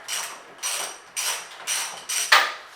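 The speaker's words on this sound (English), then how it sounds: "use a small extension and a 17 mil ratchet, and you can just take it off from there" A 17 mm ratchet with a small extension working loose the front subframe bolts on a Nissan 240SX: five quick, close clicking bursts of the pawl in an even rhythm, with no talk.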